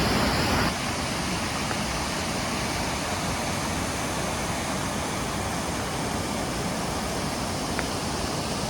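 Swollen stream or waterfall running high after heavy rain, heard as a steady, dense rushing roar close by and unbroken throughout.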